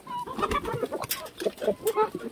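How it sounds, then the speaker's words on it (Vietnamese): Chickens on a home garden plot clucking busily as they are fed, with overlapping short clucks and chatters close by and a person speaking over them. "tính cho sáng sớm cho gà ăn nhưng mà mình quên bây giờ mình đem cho nó ăn đây"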